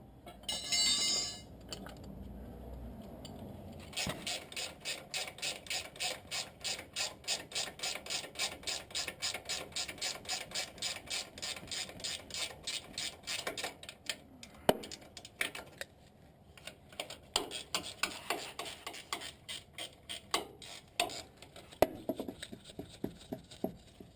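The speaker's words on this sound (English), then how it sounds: "we can get a wrench in there to tighten the top nuts" A ratchet wrench tightens the upper strut nuts during a suspension coil and shock replacement, giving a long run of rapid, even clicks close to the mic with brief pauses between bursts.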